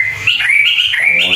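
Birds chirping and tweeting near a football field in Indonesia, a steady run of bright, high calls over faint low background noise, no talk.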